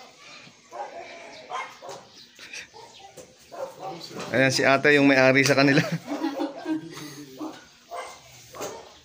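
Small shih tzu puppies yip and bark in short bursts while people chat nearby. A louder, whining stretch of barking comes in the middle.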